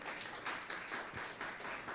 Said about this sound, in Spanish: Vamos, un aplauso al Señor.